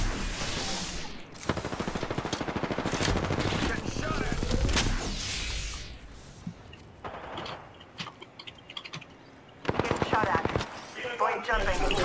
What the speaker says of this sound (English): Firing. Getting shot at. Dari sniper.